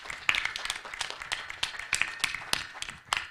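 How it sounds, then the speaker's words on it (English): Scattered audience clapping at an Indian Army quiz event held with school students, individual hand claps clearly separated in an irregular rhythm, fairly quiet and close with no talking over it. "let's have a round of applause"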